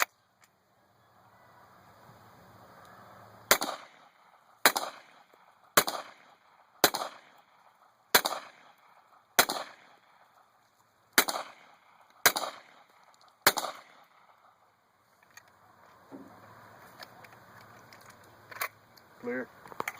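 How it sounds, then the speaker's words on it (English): Ten sharp gunshots from a Hi-Point .45 carbine, fired one at a time at a steady, unhurried pace outdoors, each with a short echoing tail, with quiet background noise before and after. "let's take a few shots and just see what this gun will do"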